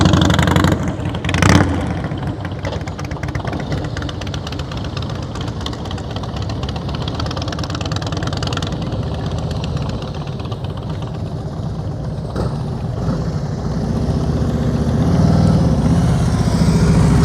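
A motorcycle engine holds a steady low throttle during slow-speed riding practice, droning continuously with a few brief revs and rising slightly toward the end, fairly close and without talk.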